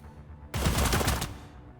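Gunfire in the tactical video game Cyber Knights: Flashpoint: a sudden, loud rapid burst of shots lasting under a second, then a fading tail over quiet game ambience.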